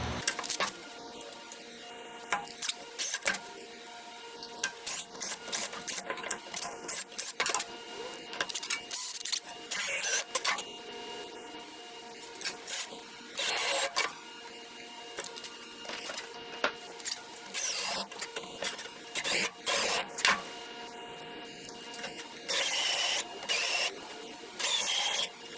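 Repeated short bursts of drilling into camper stairs, whirring and grinding pulses starting and stopping in an uneven rhythm, close by and moderately loud, with small clicks between them.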